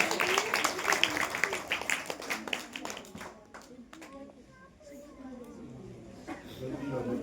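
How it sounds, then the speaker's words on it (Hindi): Audience applause at a children's prize-giving ceremony, a burst of clapping from a crowd that fades out after a few seconds, followed by quieter background voices and child speech. "तालियां हो जाए इस बच्चे के लिए भी"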